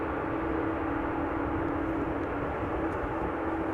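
A Boeing 747 taxiing to its parking stand at Amsterdam Schiphol Airport gives off a steady, broad jet engine roar with a low tonal hum. The sound holds at an even level throughout, with no voices.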